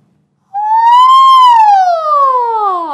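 A single voice imitates a siren, a clear sustained tone sliding up then gradually gliding down, loud and close with no other sounds.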